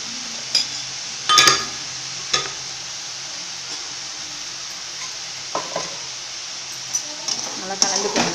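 Spiced dried fish, chena karuvadu, cooked with tomato and chili powder in a pan, stirred with a utensil that scrapes and clinks in short bursts over a soft background sizzle.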